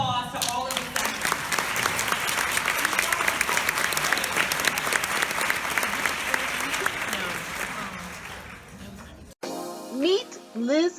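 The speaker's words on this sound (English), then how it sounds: "let's just give a round of applause to all of the speakers" Sustained audience applause for the keynote speakers at a women's conference, a dense, steady wall of clapping for about nine seconds before it cuts off; a few short voices and brief sounds follow afterward.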